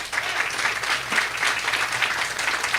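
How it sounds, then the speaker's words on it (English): Crowd applause at a community grand opening, dense even clapping sustained for a few seconds, fairly close and loud with no talk over it. "give them a round of applause"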